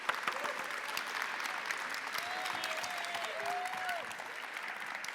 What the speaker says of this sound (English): Please give Claire and Paula a massive round of applause.